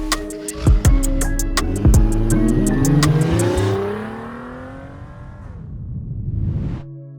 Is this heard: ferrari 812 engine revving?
yes